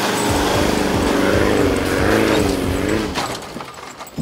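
An off-road vehicle towing a Jayco Crosstrak caravan labours loudly over a rough track, its engine note rising and falling up close before easing off near the end.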